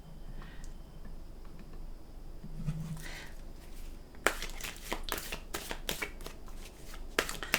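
Tarot cards are shuffled close by, quiet rustling at first, then a run of crisp riffling snaps and slaps toward the end, with no talking over it.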